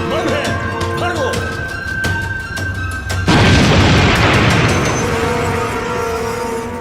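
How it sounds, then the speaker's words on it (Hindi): A bomb goes off in a Hindi-dubbed Hollywood jungle action thriller, a sudden loud boom with a long rumbling roar that follows brief tense music and tones. "बम है, भागो।"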